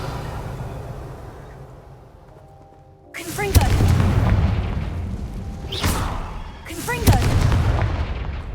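Confringo explosive spell blasts in the Hogwarts Legacy video game: two loud, booming bursts a few seconds apart follow a quieter stretch, each with a sharp crackling onset and a rumbling tail.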